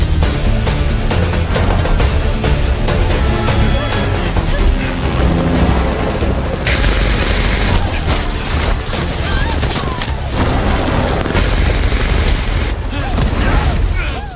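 Dense gunfire and heavy booms fill a tense action film sequence as a sniper takes aim at a helicopter, loud and continuous with a layered music score and effects throughout.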